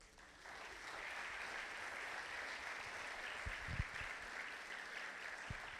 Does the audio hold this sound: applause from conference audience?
yes